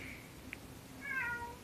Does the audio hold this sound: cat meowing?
yes